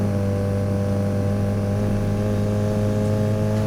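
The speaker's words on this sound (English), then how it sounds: "my engine actually sounds like it's coping" A car engine in the racing game Fuel holds a steady, loud, droning hum with strong low tones throughout, with no rise or fall and no voices.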